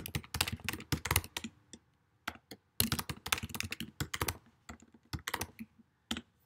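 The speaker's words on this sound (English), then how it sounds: "If I could type today, that would be nice" Someone types on a computer keyboard close up, with quick irregular bursts of crisp key clicks separated by brief pauses and no talking.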